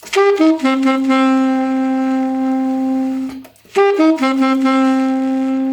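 A saxophone plays a short harmony phrase of two quick notes settling into a long held tone, pauses briefly, then repeats the same phrase.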